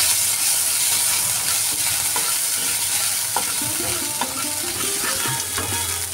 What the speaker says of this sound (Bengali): এখন আমি আদা বাটা দিয়ে দিলাম 1 চামচ পরিমাণ।